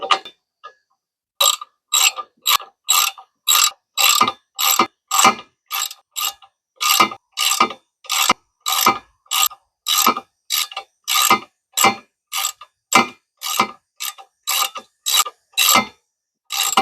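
A hand ratchet snugs down bolts on the rear rack of a 2023 Polaris Sportsman 1000 ATV, rapid bursts of clicking in a steady repeated rhythm, close and crisp with no talk.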